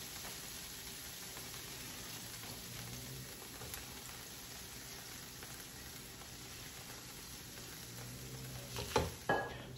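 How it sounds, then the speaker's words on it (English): Chicken sizzles gently in a pan over low to medium heat, a steady, quiet frying hiss with occasional soft stirring or clatter near the end. "now I'm going to add my chicken"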